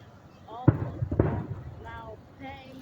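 Fireworks at the Ford fireworks show in Detroit in 2023, two booming bangs about half a second apart, fairly close, with excited crowd voices talking around them.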